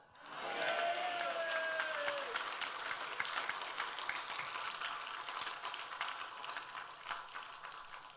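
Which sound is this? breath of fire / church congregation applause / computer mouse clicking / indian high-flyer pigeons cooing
church congregation applause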